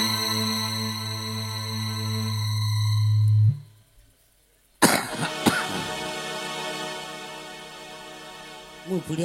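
A performer in a Bengali Sasti Mangal devotional folk drama coughs: a sustained musical tone fades into a brief hush, then a sharp, loud cough bursts out, followed by rough throaty vocal sounds.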